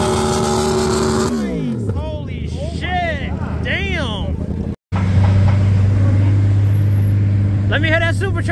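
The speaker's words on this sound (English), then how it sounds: "Let me hear that supercharger." A supercharged Ford Mustang idles loudly, then drops away while voices talk and shout over a roaring engine; after a brief cutout, a deep, steady rumble returns close by, with some rising revs at the end.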